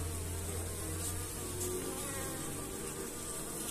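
Drone bees fly and buzz around a beehive in mid-October, a dense continuous insect hum close by, steady and unbroken with no voices.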